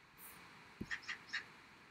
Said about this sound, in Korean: 밖에 까치가 울고 있네요.